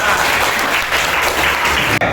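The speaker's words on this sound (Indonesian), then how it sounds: "Oke, tepuk tangan semuanya." A school class of students applauds together in a classroom. The clapping is dense, loud and steady and fills the moment with a continuous wash that cuts off abruptly near the end.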